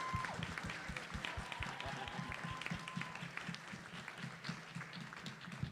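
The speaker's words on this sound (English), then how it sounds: "I'd like to have a big round of applause for Adam." A conference audience bursts into sustained applause, dense steady clapping from many hands filling the room throughout, with a faint voice or tone briefly audible early on.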